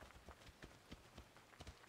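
Quiet, rhythmic clip-clop of horse hooves trotting at a steady pace, fairly faint and without talk.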